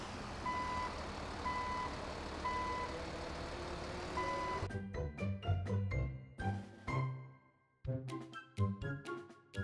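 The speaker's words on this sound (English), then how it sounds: "Truck." A truck's reversing alarm beeps evenly about once a second over engine rumble. The beeping then gives way to clattering, hissing bursts of air-brake and mechanical noise, with a brief silent gap.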